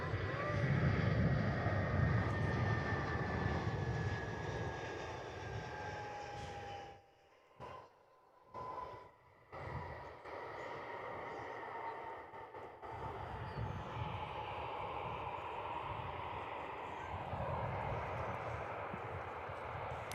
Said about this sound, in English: our next arrival heading in. The Airbus A320 there.